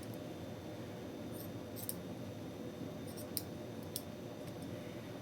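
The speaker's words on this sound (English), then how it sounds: "Okay, so cut these extra threads off," Scissors snip off loose extra threads on a handmade 18-inch jointed cloth doll, giving a few faint, sparse clicks over a steady quiet room hiss.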